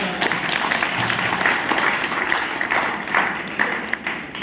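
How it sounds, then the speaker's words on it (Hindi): Audience applause at a motivational business gathering, a loud, steady wash of clapping from a sizable crowd that holds at full strength the whole time. "मैं जोरदार ताली चाहूंगा उन गुरुजियों के लिए"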